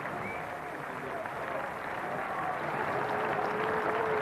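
A cricket crowd at Old Trafford applauds steadily during the 1992 England v Pakistan Test, a sustained, fairly distant wash of clapping that swells slightly toward the end, with faint voices in it.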